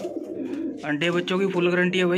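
Pigeons from a sale of Punjabi Malwai pigeon pairs in Ludhiana, Punjab, coo steadily in close, soft bursts while someone talks over them.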